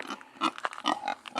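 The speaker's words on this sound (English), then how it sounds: "I wasn't joking that there's a pig here." A pig named Hamlet grunts and snorts repeatedly at close range in short, uneven bursts, with no speech over them.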